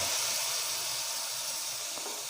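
Banana fritter batter goes into hot oil, giving a soft, steady sizzle and hiss that runs throughout, with a few faint clicks and spatters near the end.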